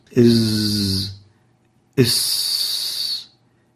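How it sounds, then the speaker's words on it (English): A voice hisses a long, whistling sibilant Arabic letter twice, as in Quran recitation, each held about a second, with a short silence between. "They do all have a whistling sound"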